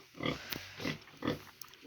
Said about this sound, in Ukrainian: Ось така в нас є свинка.